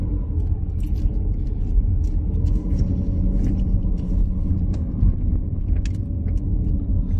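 A car engine rumbles steadily and fairly loudly from inside the cabin during a driving lesson, a continuous low drone with no voices.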